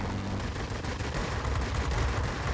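Aircraft guns, including 20 mm cannon, on a Yak-7 M-82 fighter in World of Warplanes fire in a dense continuous burst that stays loud and close for the whole stretch, with no speech.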